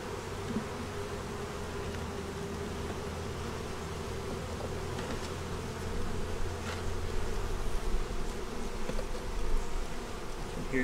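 Honey bees in an open hive box give a dense, continuous buzz that swells slightly louder toward the end, close and steady, with no voices.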